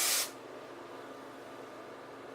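A short burst of hairspray hisses from an aerosol can onto styled hair, a brief close spray that cuts off sharply and leaves a quiet room tone.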